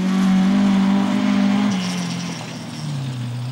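Toyota Starlet two-wheel-drive rally car on a rough stage at Rally Hawkes Bay, its small engine revving hard and loud close by, pitch holding high then dropping through a gear change and climbing again.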